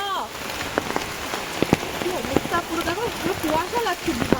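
Steady heavy rain pattering on a surface, with people talking close by over the downpour.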